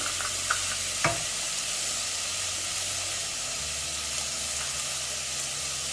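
Ground spices (turmeric, garam masala, coriander and cumin powder) with ginger garlic being stirred in a pan for mince curry, a steady close sizzle with a couple of sharp spoon scrapes near the start.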